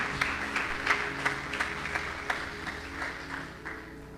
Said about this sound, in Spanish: Démosle un aplauso fuerte a la palabra del Señor.